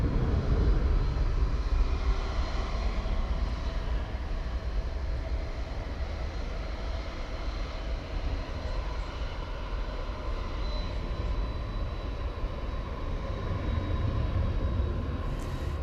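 An airliner slowly taxiing at DFW Airport, a steady low engine rumble with a faint high whine, at middle distance and constant throughout, with no voices.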